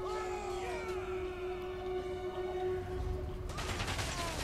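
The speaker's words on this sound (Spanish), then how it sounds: "Ahí están, las descargas de, de los arqueros." Archer volleys in a medieval strategy battle game defending Kemperbad, two ranks of archers loosing arrows: a dense, continuous crackling rush of shots under a steady droning tone, swelling into a brighter burst of impacts near the end.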